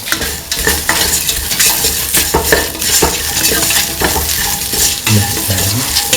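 Someone stirs a thick mixture of lentils, rice and coconut milk in a cooking pot, with steady scraping strokes and a soft sizzle close by and no talk.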